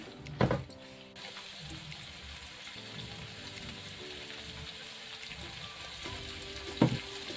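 Food seasoned with salt and turmeric fries in a pan, giving a soft, continuous sizzle, with a sharp clank near the start and another near the end.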